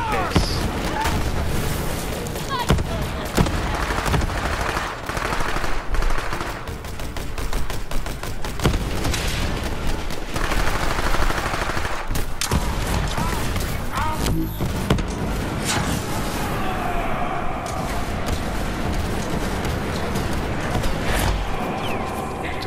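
Video game gunfire from Borderlands 3: rapid bursts and loud booms layered almost continuously, with scattered heavier blasts, while a voice talks intermittently over the shooting.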